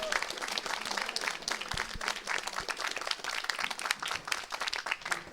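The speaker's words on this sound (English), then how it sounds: "So a round of applause for the EGA." Applause fills the room at an esports gaming event, thanking the Esports Game Arena, with steady dense clapping throughout.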